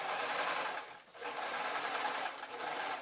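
A sewing machine runs steadily, stitching decorative stitches onto a pillow case, a continuous close whirring that dips briefly once before resuming at full speed.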